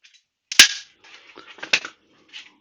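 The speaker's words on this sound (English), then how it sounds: "Anyway, got a staple gun." A staple gun fires a staple into a BMW Vario pannier case, one sharp loud snap followed by softer handling clicks and a second smaller crack.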